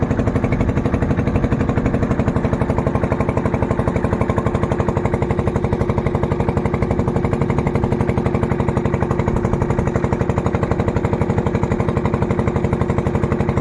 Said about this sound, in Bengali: এটা হচ্ছে মামাদের বোট এখন ভাই চালিয়ে নিয়ে যাবে আমাদের ওই পারে